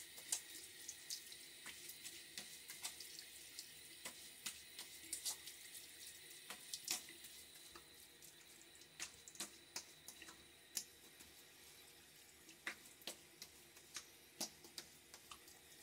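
Water from a bathroom tap runs steadily into a sink while a face is rinsed after a wet shave, a soft continuous hiss with faint repeated ticks and splashes over it.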